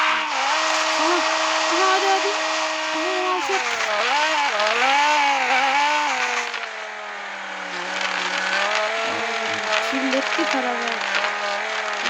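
A car engine whines and revs steadily with wavering pitch, tires squealing through a long slide as the car drifts in a video game, loud and close throughout.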